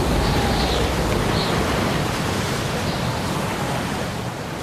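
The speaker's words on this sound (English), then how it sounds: "It's hard to imagine anything standing up to a wall of water like this." Sea waves surge in a continuous loud, broadband roar of churning water, steady and close with no distinct breaks or voices.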